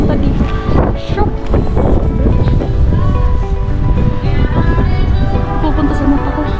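Strong wind in the Swiss Alps buffets the microphone with loud, continuous rumbling gusts, and a person talks underneath the blustery roar.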